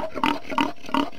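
Pigs on a pig farm near Agadir, Morocco grunt in three evenly spaced, close, loud bursts.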